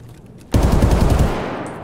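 Sudden burst of rapid automatic gunfire from a powerful weapon in the shooter game Escape from Tarkov, a dense loud volley beginning abruptly and ringing out with a fading tail, no talk over it.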